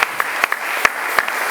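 A church congregation claps in a steady, evenly spaced rhythm, each sharp clap standing out over a constant bright hiss of room noise.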